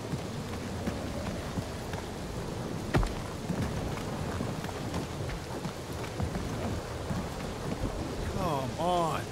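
Steady rain pours with a sharp thunder crack partway through during a stormy scene in the Guardians of the Galaxy video game, with background game ambience and brief character chatter.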